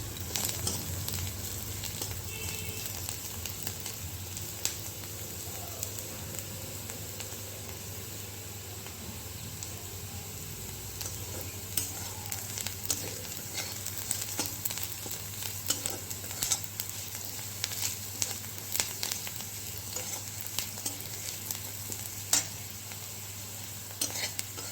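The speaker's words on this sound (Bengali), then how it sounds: "নিম পাতা ভাজা হয়ে গেছে।" Neem leaves frying in a pan on a home stove, giving a faint, continuous sizzle. Light clinks of stirring come and go throughout the long stretch, and no one speaks.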